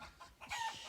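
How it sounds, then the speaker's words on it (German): A flock of chickens clucks nearby in a quick, soft series of short calls, rising briefly into a louder cackle, faint and without talk. "Ich glaube, die Hühnerschar ist wieder da."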